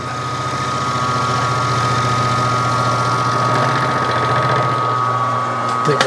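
A milling machine cuts 7075 T6 aluminum for a part of a five-cylinder radial engine. It gives a loud, steady whirring drone with a sustained high tonal whine and a faint rhythmic chatter, nearby and continuous.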